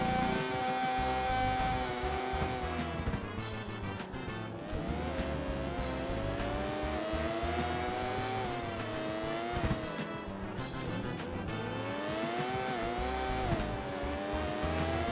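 Porsche race cars on the final lap in Need for Speed: Porsche Unleashed give a steady, droning engine note that rises and falls with the gear changes. The sound is moderately loud and continuous, with no talking.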